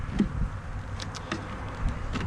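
Honey bees buzz softly around a nucleus hive, a faint, continuous hum with a few individual insects droning closer for a moment, and no one speaking.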